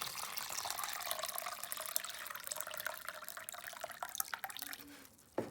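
Homemade organic liquid fertilizer is poured onto potted flowers, a faint, continuous trickle and splash of liquid with small drips near the end and no talking.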